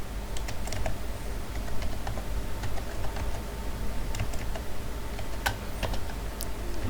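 Quick, uneven clicking of a computer keyboard as a command is typed, keys tapped in short bursts with brief pauses, close and fairly quiet, with no talking.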